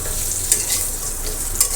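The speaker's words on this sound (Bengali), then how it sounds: "সুন্দর করে লাল লাল করে ভেজে নেব" Dried pumpkin lentil dumplings fry in a covered wok, giving a steady close sizzle with two brief sharper crackles and no voices.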